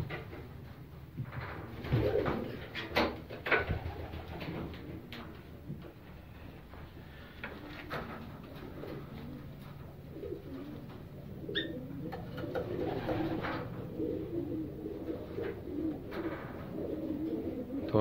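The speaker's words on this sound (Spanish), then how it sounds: "Palomas que dejaron de volar hace como una semana nada más." Pigeons in a loft in Cape Coral, Florida, racing birds retired from flying, coo in soft repeated throaty calls with some rustling and faint knocks throughout.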